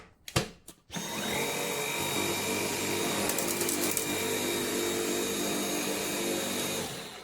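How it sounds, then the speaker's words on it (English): A Dyson cordless stick vacuum, a V7, V8 or V10 with a blocked brush, starts after a few clicks and runs with a steady, close, high whine for several seconds, with no voices. "Let's just see if we can vacuum this up."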